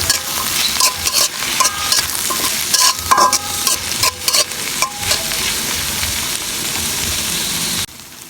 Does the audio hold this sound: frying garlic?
yes